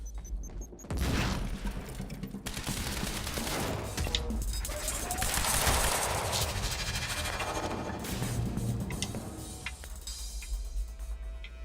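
Sustained gunfire from Quantum Break combat, a dense fusillade of rapid shots and bursts running almost the whole time, loud and close, with crashing impacts mixed in and no speech over it.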